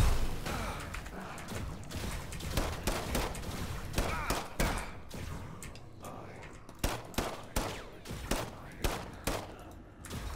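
Gunfire in the System Shock Remake, a run of sharp shots that starts dense and thins into a few spaced bursts near the end, loud and close, with no talk over it.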